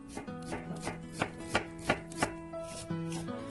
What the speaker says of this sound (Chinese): 洋葱先切片